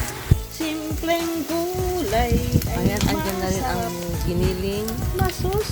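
Loud, steady sizzling of a frying pan of vegetables as tomatoes are added, with hissing and light stirring throughout while someone talks over it.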